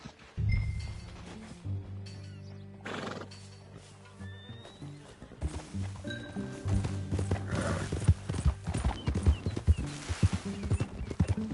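Horse hooves clip-clop in an uneven rhythm in Red Dead Redemption 2, with a horse snorting and whinnying nearby against quiet game ambience.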